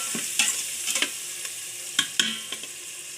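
Vegetables with chillies frying in a pan while a spoon stirs them, a steady close sizzle broken by several sharp scraping knocks of the utensil against the pan.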